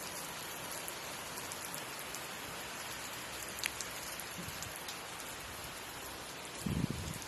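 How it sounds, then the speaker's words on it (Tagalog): Steady rain falls in Italy without pause, a soft even hiss with a few brief louder patters near the end; no one speaks. "Pagmasdan ang ulan."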